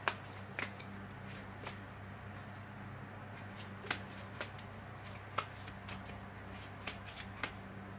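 Tarot cards being shuffled by hand, a quiet run of crisp riffling snaps and soft card flicks at an uneven pace, recorded close with a low steady hum underneath.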